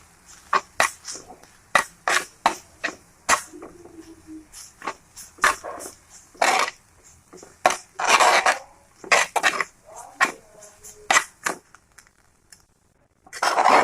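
A spoon stirs Kerala-style drumstick leaf thoran, pressing with its back, making a long series of close metallic clinks and scrapes against the pan in an uneven rhythm.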